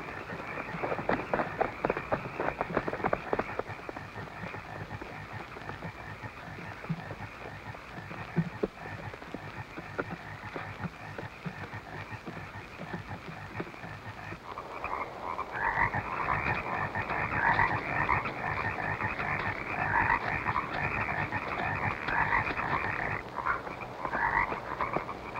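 Many frogs croaking in a dense, continuous chorus near a lakeside dock, loud and rhythmic, growing fuller and more layered partway through.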